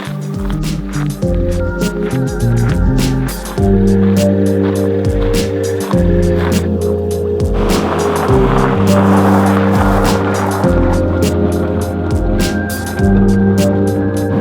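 A Geo Prizm GSi car engine hums and revs steadily while driving, with gear changes shifting the pitch and road noise underneath, continuous and fairly loud.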